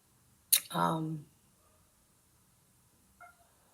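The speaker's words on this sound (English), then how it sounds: "You can hear my cat crying now in the background" A single drawn-out cat meow rings out clearly near the start, followed by a faint, short second cry a few seconds later in a quiet room.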